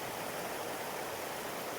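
Milky sulfur spring water at Manito, Albay pours into a river, making a steady, dense rushing hiss that stays constant at a moderate level with no voices over it.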